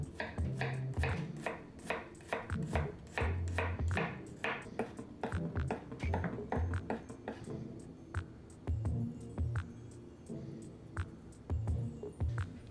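Rapid knife chops on a cutting board, mincing garlic finely in quick irregular bursts, close and fairly quiet, with no speech.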